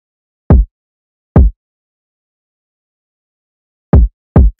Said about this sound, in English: So the first thing we got right here is the kick that sounds like this.